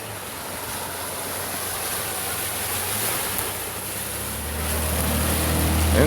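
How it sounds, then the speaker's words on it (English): A high clearance vehicle fords a creek on a Pennsylvania backroad, a continuous rushing wash of water with a low engine rumble that grows louder toward the end. "there goes somebody in a higher clearance vehicle, having no trouble fording the creek today"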